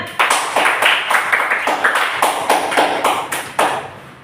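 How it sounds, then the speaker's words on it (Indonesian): A classroom of students clapping hands together in a rhythmic, synchronized pattern, about a dozen sharp, loud group claps in steady beats, close by. "Tepuk tangan."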